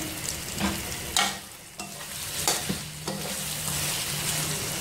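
Six or seven long green chillies, halved lengthwise, fry in a pot, a steady sizzle broken by several sharp scrapes and clanks of a spoon stirring, with no voices.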